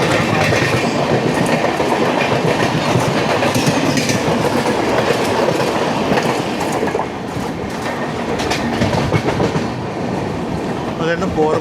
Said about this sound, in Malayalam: അതായിരുന്നു പോർബന്ദർ തിരുവനന്തപുരം നോർത്ത് എക്സ്പ്രസ്